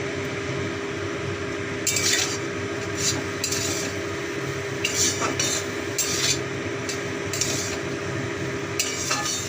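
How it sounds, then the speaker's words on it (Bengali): Ground spices and salt sautéing in hot oil in a pan for a fish curry, with a steady sizzle beneath repeated clinks and scrapes of a utensil stirring against the pan. "মশলাগুলো দেওয়ার পর ভালো করে আমরা তেলে মশলাগুলোকে সাঁতলে নেব দিয়ে দিচ্ছি আন্দাজ মতো নুন"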